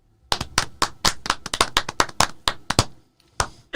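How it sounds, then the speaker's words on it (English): A single person claps hands in a quick, uneven burst of about a dozen sharp, close claps, pausing briefly before one more clap at the end. "Claps for Vin"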